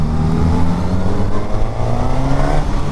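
Suzuki GSX-S1000 motorcycle engine revving loud and close, a steady throaty drone with rising harmonic sweeps as the throttle snaps open and pitch climbs, running continuously with no talk.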